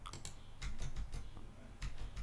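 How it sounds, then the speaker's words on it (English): Typing on a QWERTY computer keyboard at a home recording setup, with a series of close, irregular key clicks in short bursts and no talking. "If I hit a key on the QWERTY keyboard"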